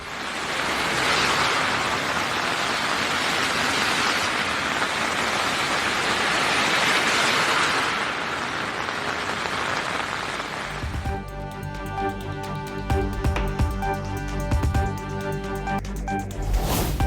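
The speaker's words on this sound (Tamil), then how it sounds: "டெல்லியில் பல்வேறு பகுதிகளில் நள்ளிரவில் வெளுத்து வாங்கிய கனமழை" Heavy rain pours at night across parts of Delhi, a steady dense hiss that runs throughout, loud and close, with a harsher, more crackling texture in the later part.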